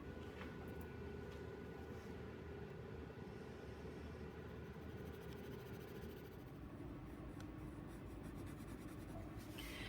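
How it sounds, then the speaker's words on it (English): A colored pencil scratches steadily across paper as shapes are colored in, a soft continuous scraping close to the microphone, heard alone without talk. "I actually want you to first choose a colored pencil to now color in the tops of your shape"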